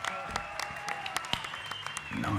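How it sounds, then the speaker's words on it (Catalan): Applause from a theatre audience during a comedy show at the Golem's theatre, scattered claps that are faint and well in the background, growing into a louder swell near the end. "Un aplaudiment,"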